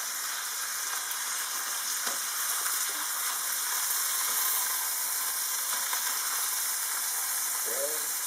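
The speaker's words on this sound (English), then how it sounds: "Go ahead and flip the meat right over." Lamb meat sizzles on a stovetop as it is flipped over, a bright, steady hiss with a few soft scraping touches and a brief voice near the end.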